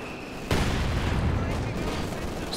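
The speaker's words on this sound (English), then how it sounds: "With heavy mortar barrage coming through." A heavy mortar barrage in Company of Heroes 2 rumbles in with a sudden loud onset, then a dense, sustained wash of booming impacts and crackling blasts, the whole bombardment filling the clip at close range.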